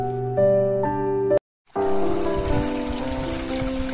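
Heavy rain falls at Korigad Fort, with water running down the stone steps. A brief musical passage and a sudden silent break give way to a dense, steady roar of rain.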